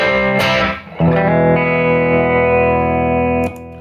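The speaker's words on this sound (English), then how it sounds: "I just added a little reverb there just to see" Electric guitar through a Chase Bliss Brothers drive pedal with added reverb, a distorted chord struck, then another sustained chord ringing thick and steady before cutting off, loud and close.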